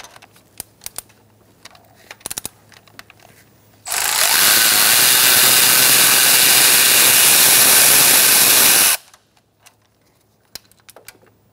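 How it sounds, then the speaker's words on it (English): An 8mm socket driven by a power tool loosens a bolt on the valve cover of a 2012-2018 Ford Focus 2.0L four-cylinder: one loud, steady whir lasting about five seconds, with faint ticks and handling noises before and after. "Using an 8mm socket, we're going to take out this bolt."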